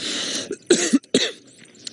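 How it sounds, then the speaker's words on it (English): A couple of short, harsh coughs close by from a person with a slight cough on an outdoor safari drive, separated by brief pauses, with a breathy throat sound at the start. "I've got a little bit of a cough"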